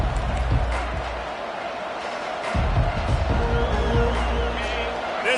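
Stadium crowd roar from an EA college football video game, a steady wash of broad noise that swells louder midway, with commentary voices talking over it.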